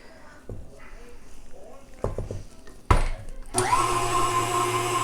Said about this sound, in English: we're going to mix it just a little bit just to make sure it's nice and fluffy